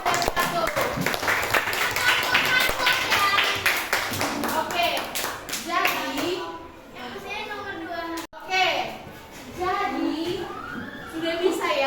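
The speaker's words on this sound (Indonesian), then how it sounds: "Tepuk tangan dulu untuk kelompok 2 dan 1" A primary school class claps for two student groups, a burst of quick rhythmic clapping from many children up close that gives way to a teacher talking, with more scattered clapping and chatter afterward.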